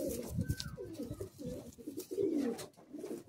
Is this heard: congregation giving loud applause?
no